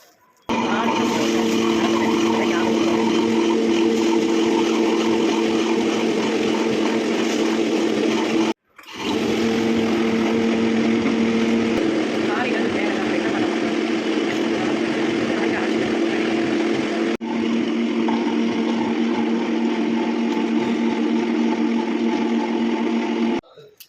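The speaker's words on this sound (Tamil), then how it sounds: "இப்போ நம்ம அரிசியை கழுவி கிரைண்டரில் போட்டலாம்." A wet grinder churns washed rice with a steady, loud, continuous mechanical drone and hum, broken by one brief pause midway and a slight shift later on, with no talking over it.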